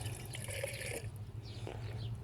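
Water is poured into a silver pot while making Sulaimani chai beside a fire, a brief splashing trickle that fades into quieter drips.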